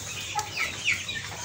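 Goliath chickens cluck on a poultry breeding farm, giving a few short, faint clucks over quiet background noise.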